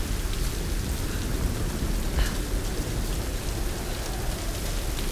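Steady rain pours in the video game Tomb Raider, a dense continuous hiss of drops with a faint low rumble like distant thunder, loud and even throughout with no talking.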